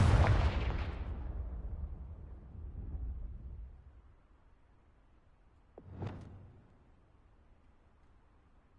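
Confringo blasting spell explosion in a Harry Potter video game: a loud, booming burst at the start that decays over several seconds, followed by a quieter sharp blast around six seconds, with no talk.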